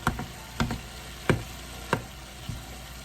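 Cheese melts on cheeseburger sub filling in a hot pan under a steady sizzle, while a utensil strikes the pan in sharp knocks about every half second, close and fairly loud, with no voices.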